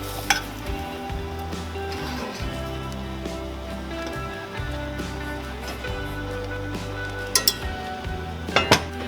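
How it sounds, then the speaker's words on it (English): A skillet of Velveeta skillet meal simmers and sizzles steadily while a utensil scrapes and stirs through the food, with a few clinks of metal on the pan near the end. "while you're letting it simmer, make sure to occasionally go in and stir"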